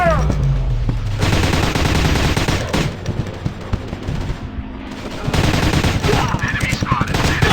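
Rapid bursts of automatic gunfire and single shots ring out in a commando shooting video game, loud and dense, with an in-game voice calling out over the firing.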